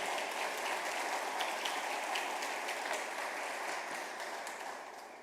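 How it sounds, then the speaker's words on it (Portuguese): A church congregation applauds in a sustained, moderately distant wash of clapping that fades gradually toward the close, with no voices over it. "Dá um aplauso ao Senhor, dá um aplauso ao Senhor em nome de Jesus."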